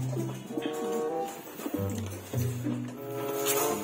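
A pigeon coos in repeated soft, low, throaty phrases, fairly close and continuous across a few seconds, with no other sounds competing.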